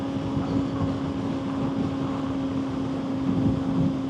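Steady rushing wind roars over a 2024 Honda CBR600RR sport bike at motorway speed, with a constant low drone and hum underneath and no break in the noise.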